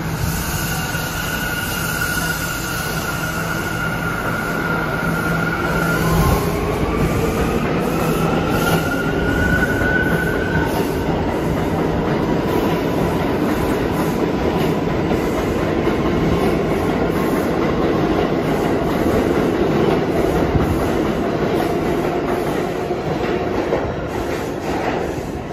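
A New York subway train with an R179 car rolls through a station, its wheels squealing in rising and falling tones over a loud, steady rumble and clickety-clack that persists throughout.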